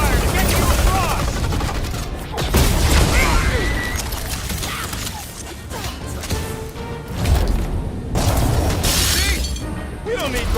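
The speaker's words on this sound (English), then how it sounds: "I'll lay down some cover fire to get you across!" Rapid bursts of cover gunfire in the Guardians of the Galaxy video game rattle and crack amid crashing impacts and shattering debris, loud and close, with character voices shouting over the chaos.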